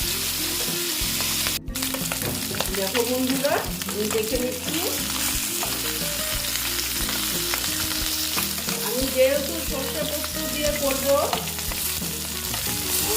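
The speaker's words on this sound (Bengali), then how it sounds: "এবার মাছগুলো ভাজাও হতে থাক" Rohu fish frying in a pan gives a constant loud sizzle, with a person talking over it throughout.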